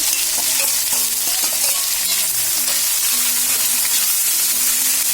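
Shallots and sliced onion frying in hot oil in a pan for a Kerala chicken thoran with roasted coconut: continuous crackling sizzle with scattered scrapes and taps from stirring, no voices.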